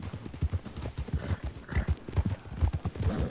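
Horse hooves gallop in a steady, rapid clip-clop rhythm, close and fairly loud throughout, with a brief whinny partway through.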